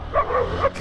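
A dog in Rio de Janeiro gives a couple of quick, high yapping barks, close and fairly soft, in under a second.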